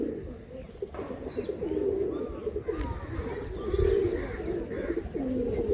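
Pigeons coo in low, throaty burbles, several birds close by and overlapping inside a pigeon loft in Behala, with a steady murmur of background noise.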